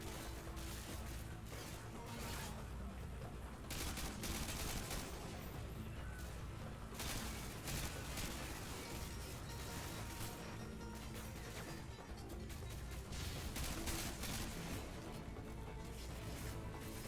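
Sustained gunfire and crashing combat noise from Call of Duty: Modern Warfare 2, a dense, loud continuous barrage with bursts and impacts filling the whole stretch, no pause.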